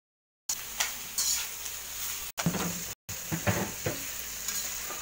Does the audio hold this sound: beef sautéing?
yes